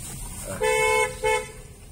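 Two short car horn honks at a gate in Lahore, loud and close, separated by a brief pause.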